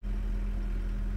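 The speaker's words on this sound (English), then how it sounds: "The engine is stone cold, and I'm going to let it warm up as I drive." Custom diesel Chevrolet S-10 pickup engine running stone cold, a loud, steady low idle drone with a strong deep hum, starting abruptly and holding even for about a second.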